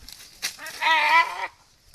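A goat bleats once with a wavering, quavering cry lasting about a second, close and fairly loud, after a few faint rustles.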